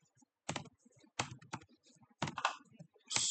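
Command typed on a computer keyboard: several short bursts of close, crisp key clicks separated by brief pauses, ending in a firmer keystroke, with no voices.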